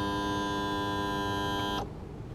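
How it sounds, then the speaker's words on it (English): An electric tilt motor hums as a Mercury 150 hp four-stroke outboard swings up past vertical, a steady, close whine that cuts off sharply near the end and leaves quiet background, with no voices. "Tilt the outboard out up past vertical for approximately 1 minute"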